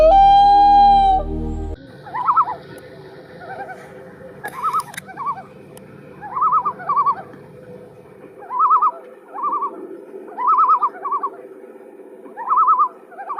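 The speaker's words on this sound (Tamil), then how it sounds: "நம்பர் 2 இந்த லூன் பேர்ட் தான்." A loon opens with a long, clear wailing note, then gives a series of repeated wavering tremolo phrases at a steady rhythm, moderately loud against a quiet background.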